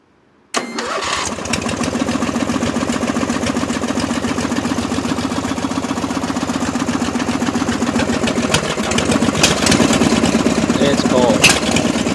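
Cold start of a mud truck's engine after a month unused: silence, then a sudden crank catching into a loud, steady, slightly rough low idle that persists, with a brief rise in revs near the end.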